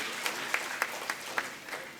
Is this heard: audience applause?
yes